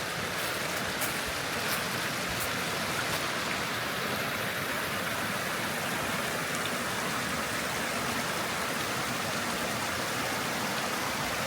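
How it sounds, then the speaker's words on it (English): Forest creek flowing beside a hiking trail in Tioga State Forest, a steady, loud broadband rush of water that stays constant throughout with no voices. "And you got the creek over to your left."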